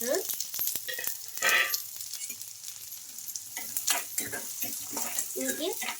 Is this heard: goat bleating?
no